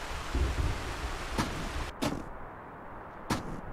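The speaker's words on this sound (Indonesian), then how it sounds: "Aku suka hujan lebat, cozy." Heavy rain hisses steadily in a video game set on a mountain, broken by a few sharp, loud cracks or thumps, with no one talking.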